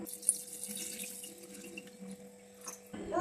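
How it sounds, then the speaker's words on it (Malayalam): A cup of water is poured into a pot on a lit stove, a soft, steady trickle heard faintly over a low kitchen hum, with a brief splash near the end and no talk. "ആദ്യം എടുത്തു വെച്ചിരിക്കുന്ന വെള്ളമാണ് ഒഴിക്കുന്നത് ഒരു കപ്പ് വെള്ളം ഒഴിക്കുന്നു"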